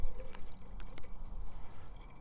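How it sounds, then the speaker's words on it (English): Fireball whisky is poured off soaked apples into a glass mason jar, a close, uneven splashing stream with a few small clinks and no speech. "We're going to take this Fireball and pour it off."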